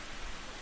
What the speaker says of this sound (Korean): 조금 전까지 맑았던 하늘에서 빗방울이 하나 둘 떨어지기 시작했어요.